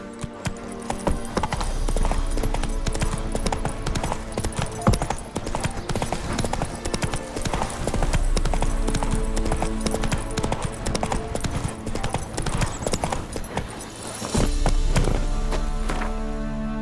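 Horse hooves gallop with a steady, loud clip-clop rhythm over a dense music-and-effects bed in The Witcher 3, with a brief whinny and occasional voice.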